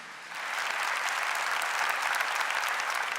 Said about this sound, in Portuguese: Monsenhor Jonas, a quem eu peço uma salva de palmas, nosso amado e eterno Monsenhor Jonas.